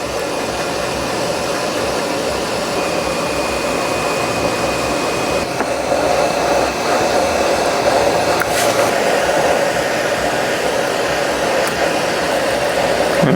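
A heat gun blows hot air onto the back of an MSI MS-17G1 laptop screen to loosen its adhesive, making a loud, steady whooshing roar with a faint high whine and a few brief clicks and taps.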